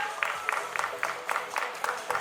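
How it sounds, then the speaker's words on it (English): Applause from the audience at a felicitation ceremony celebrating student achievements, with rhythmic, moderately loud clapping steady across the short span, alone without talk. "please तालियां बजती रहनी चाहिए"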